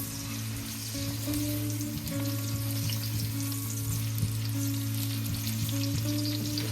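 Onions and garlic fry in oil in a pan with a steady close sizzle and soft bubbling crackle, alongside a constant low hum in the background.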